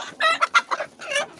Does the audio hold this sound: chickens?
yes